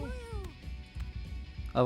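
Cartoonish cat meows from the Mewgenics video game, a rising then falling call at the start and a brief one near the end, heard over steady game music and background sound.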